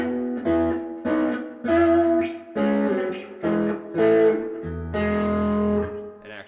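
Epiphone Casino with Lollar P90 pickups plays through an Archer overdrive stacked with a Durham Electronics Mucho Busto, giving gritty, overdriven chords struck in short separate phrases with brief gaps between them.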